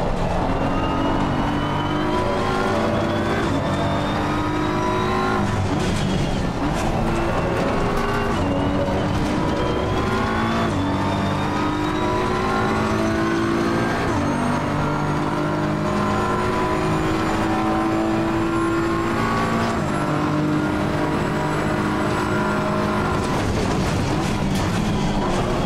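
Engine of an Aston Martin race car in a racing game sounds as a sustained high revving drone with rising and falling gear tones, running loud and continuous for the whole stretch with no talking.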